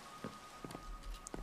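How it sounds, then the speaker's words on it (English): Rain patters softly in a Pokemon video game, a quiet steady hiss broken by a few brief louder drops or taps. "it must be raining."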